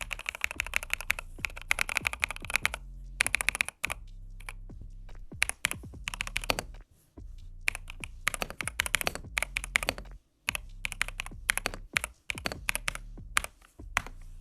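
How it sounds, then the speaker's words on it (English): Keys on an EPOMAKER Shadow-X 70% mechanical keyboard are pressed over and over in quick clattering bursts, close and crisp, with short pauses between runs and no talking. "I'm gonna press a couple keys over and over again just so you can hear this again."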